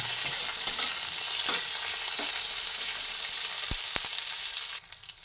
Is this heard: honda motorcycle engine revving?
no